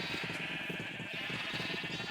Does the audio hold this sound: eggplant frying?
no